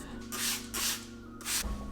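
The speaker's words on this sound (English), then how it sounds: "I'm gonna go ahead and spray this evenly all throughout the upper of the boot" Waterproofing spray hisses onto the upper of a Gore-Tex boot in three short bursts, soft and close, separated by brief pauses.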